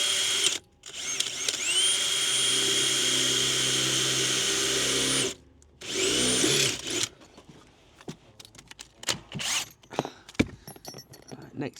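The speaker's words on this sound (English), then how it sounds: "Bulkhead's drilled through, bolt holes are drilled through." Power drill boring through the steel bulkhead of a Mk4 Ford Escort during a 2.0 TFSI engine conversion, a loud steady whine for about five seconds, a brief pause, a second burst, then scattered clanks and handling noises.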